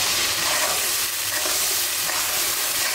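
Garlic and ginger paste fries in hot oil with a dense, continuous sizzle and scraping stirs, loud and close throughout with no one speaking.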